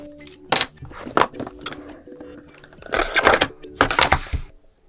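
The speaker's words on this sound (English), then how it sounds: "Cut our way in." A blade cuts open the box of a Samsung Galaxy M55 in a quiet room, giving sharp, separate slicing and tearing scrapes, with short pauses between strokes and a rougher run of cuts toward the end.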